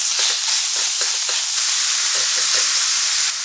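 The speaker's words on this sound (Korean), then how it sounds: "올리브유 2스푼 정도 두른 후 타진 소고기 200g을 넣고" Minced beef stir-frying in olive oil over medium heat, a loud, steady sizzle with repeated scraping strokes of a utensil through the pan, no voices.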